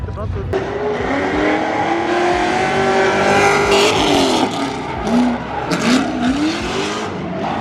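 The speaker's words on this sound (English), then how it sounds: "That's a badass drift car." A BMW E36 M3 drift car revs hard and slides, its engine pitch rising and falling against sustained tire squeal and skidding, loud and fairly close, with crowd voices underneath.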